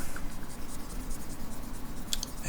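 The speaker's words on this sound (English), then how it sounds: "on this one, we're just going to erase this version" A storyboard drawing being erased, a steady soft rubbing and scratching across the paper that continues throughout at close range with no voices.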